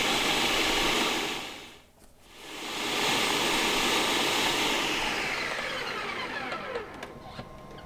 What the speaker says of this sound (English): And just blend it down.